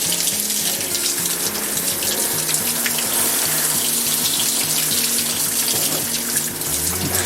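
Water pours steadily from the return of an outdoor koi pond, a close, continuous splashing gush with a low rhythmic pump hum beneath it and no voices.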